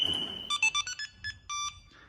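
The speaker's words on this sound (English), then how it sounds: "So we can actually arm the system, so by pressing the N button," Series of short electronic chirps and beeps from a 2008 Range Rover's newly fitted alarm system arming via a remote tag, several quick tonal pulses followed by a longer tone, close and clear with no talk.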